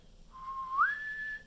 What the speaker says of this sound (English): If you can whistle